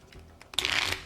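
Playing cards drawn and shuffled to decide initiative at a tabletop game, a few soft slides and flicks leading into a brisk riffling burst, close and fairly loud with no talking.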